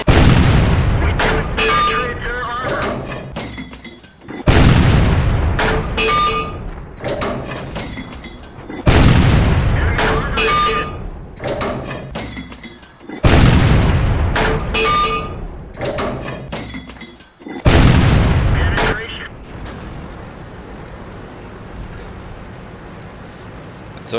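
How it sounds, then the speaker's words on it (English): A KV-1 tank's main gun firing in World of Tanks, heard from inside the tank: five loud, booming cannon shots spaced roughly four seconds apart, each followed by a rumbling reload, with no talking. "I noticed that gun sound in the KV-1 is pretty loud."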